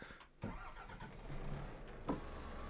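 A heavy Iveco Stralis truck engine in Euro Truck Simulator 2 cranks and catches, then settles into a steady low rumble, fairly close and loud.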